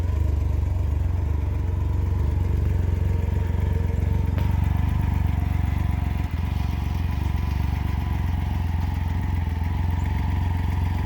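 A Can-Am Ryker three-wheeled motorcycle runs with a steady, loud, close engine drone that holds throughout as it rides off, with no talk over it.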